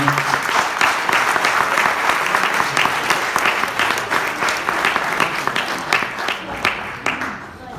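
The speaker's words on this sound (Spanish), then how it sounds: "Un fuerte aplauso para Tony" Church audience applause welcoming a pastor to the stage, a full sustained clapping from a crowd that slowly tapers off, with a voice speaking over it.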